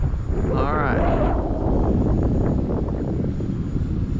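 A FlyFans K-8 Red Falcon RC jet flies overhead on a very windy day, its steady jet whine and a brief pitch sweep rising over heavy wind rumble on the microphone.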